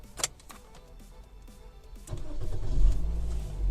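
A first-generation Toyota Yaris engine cranks and catches after a few soft clicks, settling into a steady idle that grows louder and rumbles near the end, with no voices.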